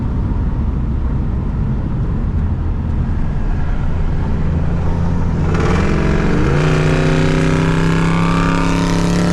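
Illegal turbocharged Ford Mustang driven on a highway at midnight: steady loud engine drone under heavy wind rumble, with the engine tone climbing in pitch partway through as the car accelerates.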